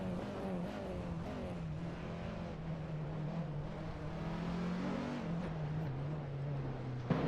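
Engine drone from race cars in a virtual BTCC race at Zandvoort in a racing video game, a continuous steady hum with slight shifts in pitch, no voices.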